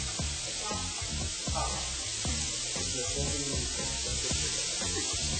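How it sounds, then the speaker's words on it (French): Scallops searing in olive oil over very high heat give a loud, continuous close-up sizzle and spray, broken by regular light taps and clicks from cookware. "Alors le repère de cuisson pour la noix de Saint-Jacques, c'est coloration des deux côtés à l'huile d'olive à feu très vif"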